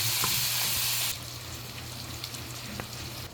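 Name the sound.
food frying in a wok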